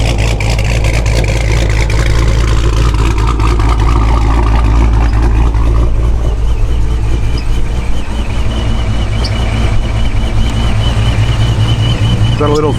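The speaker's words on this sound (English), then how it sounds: "this is just a standard idle, and this far back I have to scream over the sound of the car" A 426 HEMI V8 idling loudly from the rear of the car, a deep steady rumble with a lumpy pulsing beat, heavy and continuous, with a voice talking over it.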